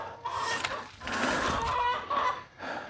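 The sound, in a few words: chickens clucking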